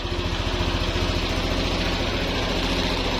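Yamaha NMAX scooter engine idling steadily at close range after a chassis repair, a continuous low throbbing hum with a regular pulsing rhythm and no voices.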